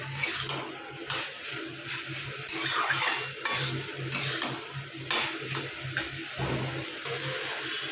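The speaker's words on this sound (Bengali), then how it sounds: "তো আমি একটু নাড়াচাড়া করে নিয়েছি সবজিটা মশলার সাথে আর পনির সাথে।" Vegetables, spices and paneer tossed in a pan, a soft sizzle under repeated spatula scrapes and metallic clinks against the pan, near and fairly steady with brief louder stirring bursts and no voices.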